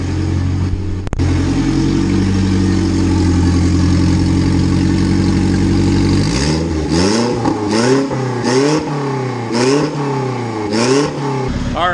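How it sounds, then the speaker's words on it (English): Turbocharged B16 engine in an EG Honda Civic, recently troubled by fuel issues: a loud, close, steady idle for about six seconds, then a series of sharp throttle blips that rise and drop again and again. "We finally got the EG basket case turbo Honda 850 car running good."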